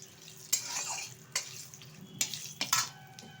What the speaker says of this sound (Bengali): তেলটা গরম হয়ে গেছে, তেলের মধ্যে দিয়ে দিচ্ছি একটা তেজপাতা মাঝখান থেকে ছিঁড়ে, আর দিয়ে দিচ্ছি 3টে শুকনো লঙ্কা